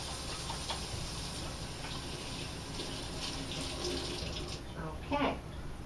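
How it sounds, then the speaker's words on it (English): A tap runs steadily into a kitchen sink while hands are rinsed under it, a continuous close rush of water with a brief louder splash near the end. "let me rinse my hands real quickly"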